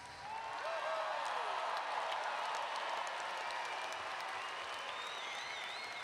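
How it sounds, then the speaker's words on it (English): Sustained applause from a large commencement audience for graduates at Grand Valley State University, a broad even roar of clapping rising after a brief quiet start, with scattered voices and whoops within it. "let's give another round of applause for all of our graduates."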